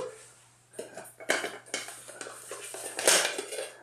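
A Trangia 27 camping stove set is handled, its aluminium kettle and pots clinking and clattering in irregular light knocks and scrapes, close and fairly quiet, with no talk.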